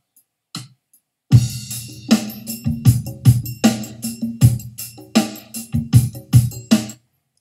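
A steady beat track for an alto sax lesson opens with a few light drum clicks. A full, loud groove of regular snare hits over a thudding bass pulse then keeps even time throughout.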